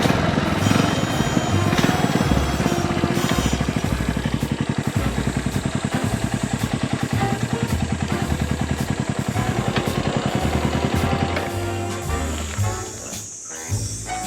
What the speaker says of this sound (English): The engine stalls like this for some reason.